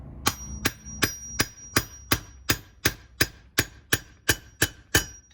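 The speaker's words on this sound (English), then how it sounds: "with a little bit of grease on the outside, I can tap it in" Greased bearing race being tapped into an M416 trailer hub: about a dozen sharp, ringing metallic taps at an even, steady rhythm, close and loud with no talk.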